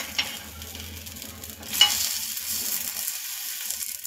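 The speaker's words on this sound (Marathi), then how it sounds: "हे पाव असे आपण व्यवस्थित फ्राय करून घेणार आहोत" Pav bread rolls frying with masala in a pan over low heat, a soft, quiet sizzle with occasional stirring scrapes and one brief clatter, no voices.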